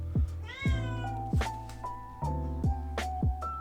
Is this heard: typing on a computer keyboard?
no